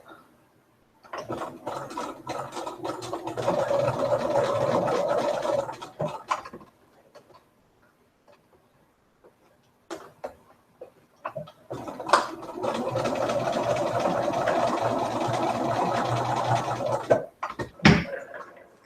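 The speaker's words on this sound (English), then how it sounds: "let's sew a little bit on the bottom" A sewing machine stitches fabric for a holiday quilting project, running in two long, steady bursts of several seconds each, separated by a quiet pause and finishing with a few brief clunks.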